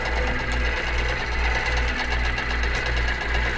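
QBOT quilting robot driving a sewing machine through a stippling design: steady, rapid mechanical stitching with a regular rhythmic pulse, close and continuous throughout.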